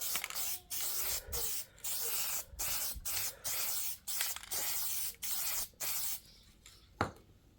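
Aerosol can of Plasti Dip being sprayed onto an Acura TL in a series of about ten steady hissing bursts, each roughly half a second long and separated by brief pauses, close and fairly loud, with no talking.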